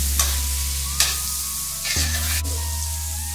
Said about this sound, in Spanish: Y ahora lo que vamos a hacer es empezar a revolver para que la harina de garbanzo se impregne con la manteca.